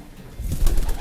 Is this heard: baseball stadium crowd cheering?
no